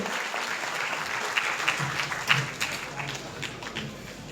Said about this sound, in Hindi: एक बार जोरदार तालियों से राशिदा का दोबारा स्वागत करेंगे हम लोग